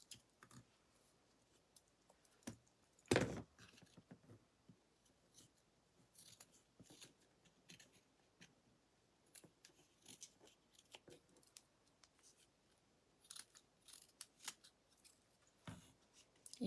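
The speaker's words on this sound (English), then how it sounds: "So I'm just going to go along the sides of this one and cut off what's showing." Scissors snip along the edges of wooden shims for a rustic tree craft, giving many faint, quick crisp cuts scattered throughout with one louder snap early on, close and alone with no talk.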